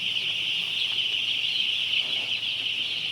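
A dense, steady chorus of high peeping from three-day-old chicks in a poultry farm shed, continuous and fairly loud throughout with no talking.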